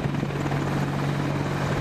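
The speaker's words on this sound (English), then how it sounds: "This is the world's most advanced attack helicopter, the Apache AH-64E." An Apache AH-64E attack helicopter drones loudly and steadily overhead, its rotor chop and engine hum forming a dense, continuous roar with a low pulsing tone.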